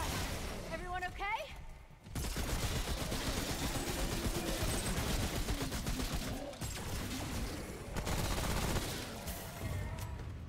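Sustained gunfire in Remnant: From the Ashes survival mode, dense rapid shots and bursts with brief pauses, loud and continuous, with voices talking over it.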